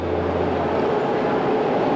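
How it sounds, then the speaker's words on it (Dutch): An LGB model garden railway train runs, a steady low rumble and hum with no breaks, moderately loud and heard alone. "de trein zoals die bij mij in de tuin rijdt hier te zien"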